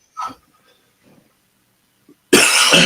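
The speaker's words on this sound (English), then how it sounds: "Yeah, we all got the cough" A single sharp cough up close, followed by a few faint breaths and a burst of loud broadband noise at the end.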